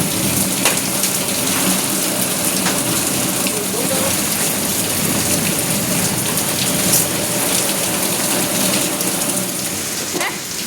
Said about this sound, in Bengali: দেখো এখনো বৃষ্টি পড়ছে কিছু কিছু, অনেক গুড়ি গুড়ি বৃষ্টি পড়ছে।